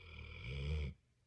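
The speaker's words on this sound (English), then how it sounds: "The noise you hear is actually my dog snoring" A single low, rumbling snore from a dog, close and fairly quiet, lasting about a second before fading to near silence.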